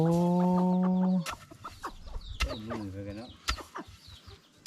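Village chickens cluck and a rooster calls close by at the start, followed by scattered clucks and soft farmyard noises, with some voices heard faintly.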